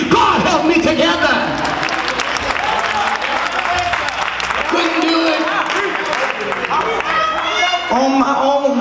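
A church congregation claps hands during a service, a dense patter running under a loud, sustained voice that carries through the whole stretch.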